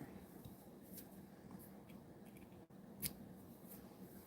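Scissors snip ribbon in a quiet craft studio, a few faint, sharp cuts spaced apart over low background hiss, with one crisp snip standing out near the end.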